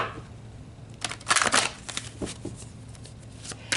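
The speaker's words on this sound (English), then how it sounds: "So let's pull some more cards about this, Libra." Tarot cards shuffled by hand in a quick burst of soft riffling and flicking, close and fairly quiet over low room hum.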